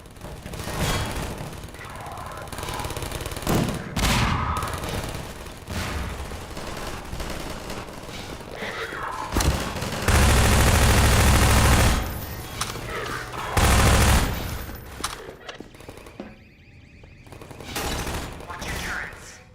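Automated turrets firing in Half-Life 2, bursts of rapid gunfire and booms with a dense sustained barrage in the middle, mixed with game sounds and some talk.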